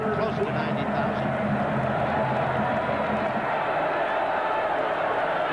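Steady roar of a huge crowd, close to 90,000, filling a football stadium during a 1991 UCLA vs USC game, continuous and dense with mild swells of cheering throughout.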